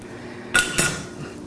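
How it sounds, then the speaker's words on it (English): A dish is set down on a kitchen counter while making healthy brownies, giving two quick ceramic clinks about a quarter second apart, close and fairly sharp over quiet room tone. "I'll have to put that dish back over here."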